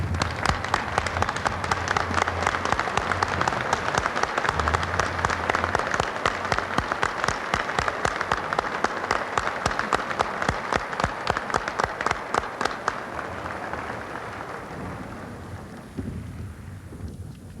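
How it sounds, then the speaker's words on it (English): An audience at an awards banquet for a national truck driving championship gives a long, dense round of applause with crisp individual claps, holding loud for most of the time before gradually thinning and fading toward the end. "stand and give them a round of applause"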